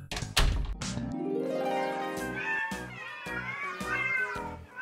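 A cat meows several times in a row, loud and close, with drawn-out wavering cries after a brief thump at the start.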